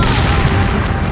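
Dense, booming gunfire from a video game, a continuous loud burst of shots and blasts over a short stretch, with nothing else standing out.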